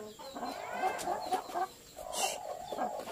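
Bangkok chickens cluck repeatedly at moderate distance, soft rhythmic calls with a few sharper squawks, no voices.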